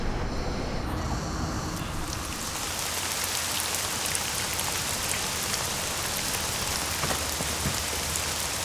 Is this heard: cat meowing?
no